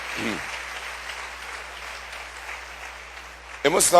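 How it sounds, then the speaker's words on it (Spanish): Church congregation applauding for the King during a Spanish-language worship service, a broad crowd clapping that swells loudly near the end after quieter hissing texture, with a brief voice at the start. "denle un aplauso al Rey"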